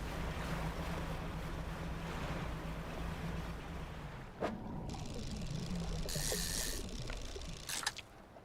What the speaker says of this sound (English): Sometimes the ocean just makes disturbing noises.